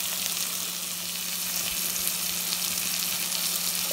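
Masala frying in a pan for a sponge gourd and black chickpea curry, a dense, constant loud sizzle with no breaks and no voices.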